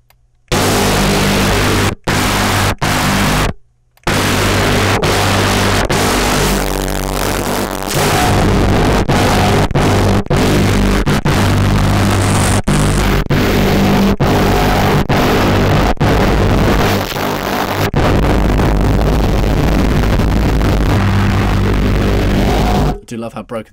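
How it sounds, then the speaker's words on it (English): Harsh wave-shaping distortion from an Ableton Saturator on a synth, a loud, dense, broken buzzing tone with abrupt cuts and stutters, dropping out briefly near the start and stopping at the end. "Let's add a saturator in. Let's try some wave shaping."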